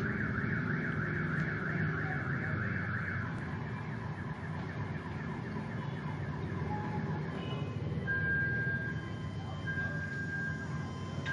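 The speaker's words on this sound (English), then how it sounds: "And as you can hear, they have car alarms also here in the Philippines." A car alarm on a street in the Philippines wails in a loud repeating cycle, with its tone pattern changing partway through, over constant street noise.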